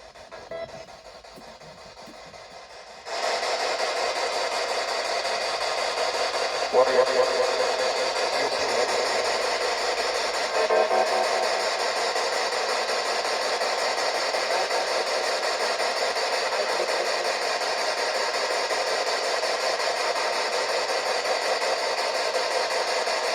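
Steady wash of hissing ghost box radio sweep static run through a noise killer, with faint choppy fragments drifting through, starting abruptly after a quiet few seconds and running on unchanged.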